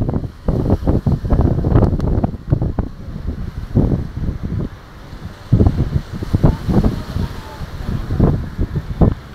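Typhoon wind buffets the microphone on the Navotas shore, with waves and surf crashing close by; the roar comes in loud, gusty bursts throughout.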